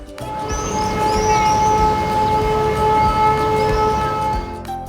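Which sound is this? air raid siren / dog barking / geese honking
air raid siren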